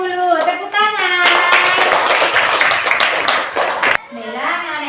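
Classroom applause from a group of schoolchildren, a dense burst of clapping lasting a few seconds between a teacher's spoken lines.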